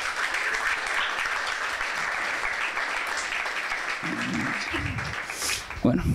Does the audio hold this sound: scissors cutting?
no